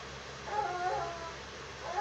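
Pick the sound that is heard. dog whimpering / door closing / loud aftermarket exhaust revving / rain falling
dog whimpering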